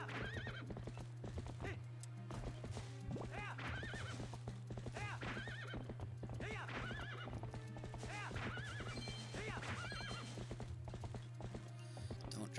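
Epona the horse in a Zelda video game, rhythmic clip-clop hoofbeats galloping steadily with repeated neighs and whinnies over a constant low game hum.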